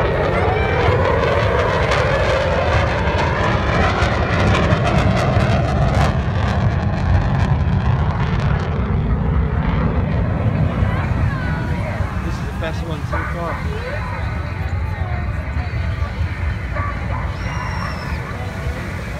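An RAF Typhoon FGR4 jet makes a high-speed low pass at 100 feet over the sea at Torbay Airshow, producing a loud, continuous roar that fades gradually, with an airshow commentator talking over it.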